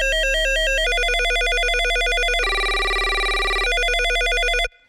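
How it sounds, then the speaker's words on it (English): A synthesized telephone ring built in the Serum synthesizer trills in rapid warbling pulses whose pitch and rate shift partway through over a sustained low bass tone, then cuts off abruptly near the end. "once we move this macro knob around, it's going to change the speed of the telephone sound."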